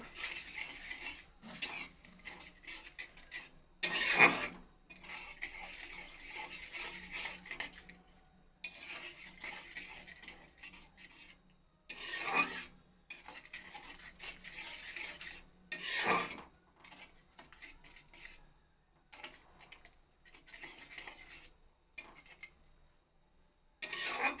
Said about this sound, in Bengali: চিনিটা গলে যাওয়া পর্যন্ত নাড়িয়ে নেব